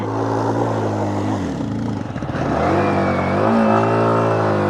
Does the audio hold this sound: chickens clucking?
no